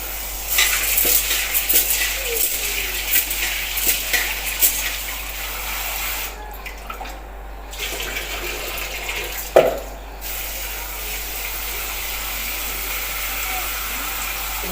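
Chana dal being rinsed under running tap water in a home kitchen while preparing paruppu poli, a steady close-up splash and gush that carries on throughout, with one brief clunk near the end.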